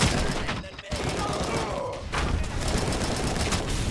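Enemy gunfire crackles in dense, steady volleys through a firefight in RoboCop Rogue City, loud and continuous, with brief gaps and a voice talking over the shooting.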